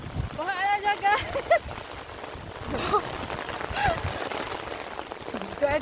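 Heavy rain falls steadily outdoors during a strong thunderstorm, a constant wash of noise with voices talking and exclaiming over it throughout.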